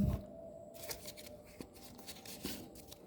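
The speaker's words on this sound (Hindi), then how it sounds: "मैं थोड़े से ये वाले कार्ड निकाल लेती हूँ।" Tarot cards being drawn from a deck, soft faint papery flicks and slides in brief bursts over a quiet room, with no one speaking.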